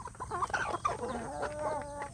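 Free-range village chickens cluck close by in a farmyard, a quick run of soft, warbling clucks and calls overlapping over a low background hum, no talk.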